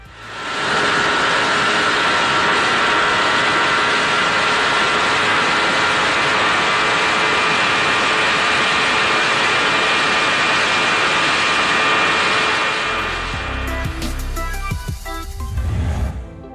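MV Agusta F4RR sport motorcycle engine howling at sustained high revs, loud and close, with a dense harmonic roar that holds steady before breaking into a rougher, lower rumble near the end.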